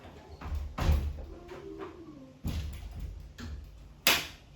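An old door in an old house is closed, heard as a few knocks and thumps with a sharp bang near the end, among quieter handling sounds.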